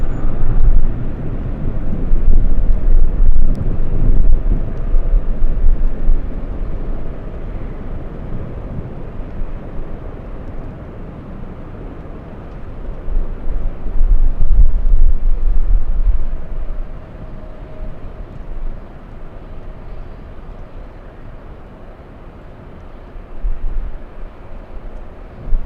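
A jet airliner taxiing at LAX airport, a loud, continuous low roar of engines with wind buffeting the microphone, swelling and easing over time.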